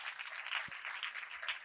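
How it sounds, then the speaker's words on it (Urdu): A church congregation applauds loudly, a dense steady wash of clapping hands filling the room with no voices over it. "آپ کی زوردار تالیوں میں"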